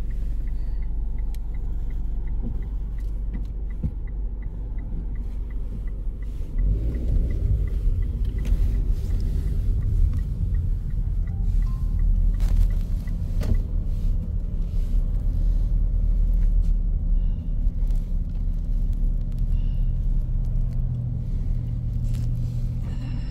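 City street traffic in Fremantle, a steady low rumble of passing cars and engines with a heavier vehicle swelling in partway through, continuous and fairly close, with no talk.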